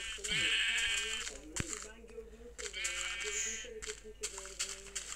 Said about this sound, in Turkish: Karşıda şurada bir tane daha koyun gördüm arkadaşlar.